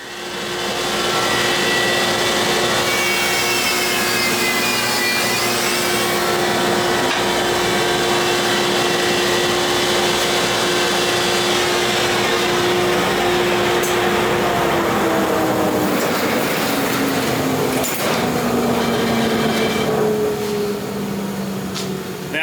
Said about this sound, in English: planer really does a nice job. It's got the spiral head with the carbide teeth in there.